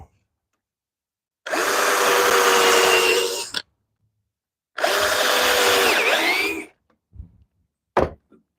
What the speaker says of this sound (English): Let's put another pair of our decking screws into this side.